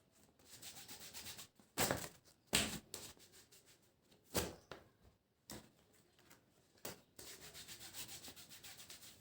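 Wax strip rubbed firmly over skin in a home waxing session, a soft broadband rubbing and scuffing with several sharper bursts between quieter stretches, close and fairly quiet, with no talking.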